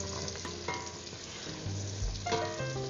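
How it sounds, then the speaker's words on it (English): Diced garlic sizzles and fries steadily in melted butter in a pan, with a dense continuous crackle and occasional stirring clatter, close and fairly loud, no voices. "I'm going to add my 1 clove of garlic, which I diced. We're going to cook that for 30 seconds."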